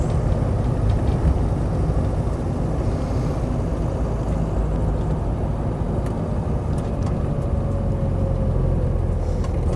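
A green Land Rover 90 hardtop with a 2.5 TD diesel engine runs while driving, a steady low, smooth drone with road rumble and faint rattling from the rear windows, continuous and fairly quiet for a diesel.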